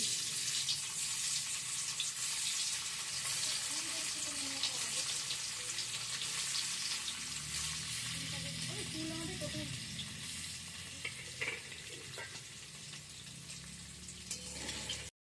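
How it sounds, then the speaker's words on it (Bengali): Paneer fries in a wok of hot mustard oil and white oil, a steady loud sizzle throughout that eases slightly near the end, with occasional faint clinks. "এখন পনিরটা দিয়ে দিচ্ছি।"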